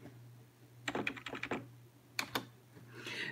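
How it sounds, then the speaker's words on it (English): Typing on a computer keyboard: a quick run of light clicking keystrokes, then a short pause and two more taps, close and fairly quiet, with no talking. "when I type something in"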